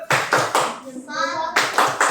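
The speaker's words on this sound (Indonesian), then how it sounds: "kita tepuk tangan untuk kelompok 3" A group of schoolchildren claps in unison with steady, rhythmic bursts, pausing briefly mid-clip before clapping resumes, loud and close.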